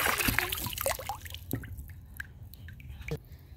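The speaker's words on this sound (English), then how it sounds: "the water's still coming through there" Water trickles and drips from the skimmer opening of an above-ground pool during skimmer installation, a close, uneven wet spatter that is busiest at first and then thins to scattered drips.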